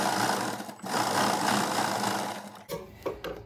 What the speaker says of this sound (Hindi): अब यहाँ पे हमने एक सिलाई लगाना है पलट के।